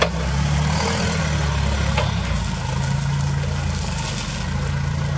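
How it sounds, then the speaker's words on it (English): A clean, low-hour 2014 Crown C5 pneumatic-tire forklift with a John Deere four-cylinder LP gas engine runs at a steady idle, a continuous low hum that stays even and close throughout. "Runs a John Deere four-cylinder LP gas engine."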